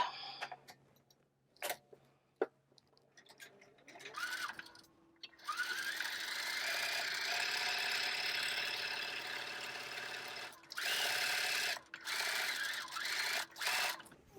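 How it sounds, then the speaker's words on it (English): A sewing machine stitches one side of a small doll skirt, running in a steady close whir for several seconds after a few quiet handling taps, then stopping and restarting in short bursts. "I'm going to sew one side."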